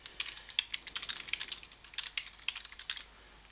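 Rapid keystrokes on a computer keyboard, close and fairly quiet, come in an irregular burst of clicks with short pauses, with no voices.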